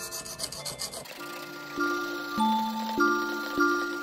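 A knife blade is drawn across a stone on a KME sharpener, sounding as close, rhythmic scraping strokes followed by a series of bright ringing scrapes, with no talk.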